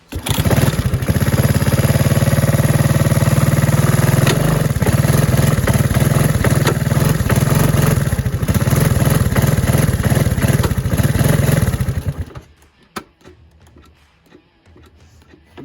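A 1984 Honda ATC 200S three-wheeler, recently freed from a seized engine, runs steadily with a loud close rattling putter and slight revs, then cuts off abruptly near the end, leaving quiet background.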